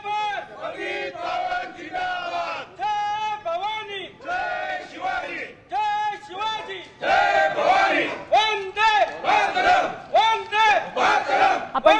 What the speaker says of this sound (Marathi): आता या परिसरात जल्लोष साजरा करण्यात येतोय